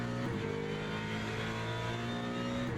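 Race car engine in Le Mans Ultimate pulling hard under a final throttle application, a loud, steady, rising harmonic whine with a brief dip early on, close and continuous.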